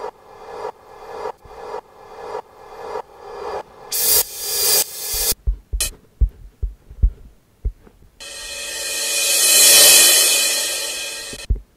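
A rhythmic beat of repeated thumps leads into a swelling reversed hi-hat hiss that rises steadily to a peak and cuts off abruptly.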